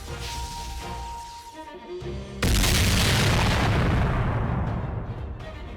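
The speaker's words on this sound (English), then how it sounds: "Did they really just literally explode?" A sudden massive explosion in the Fate/Grand Order video game, a loud booming blast that hits after a quieter musical passage and rumbles on with a long decaying roar.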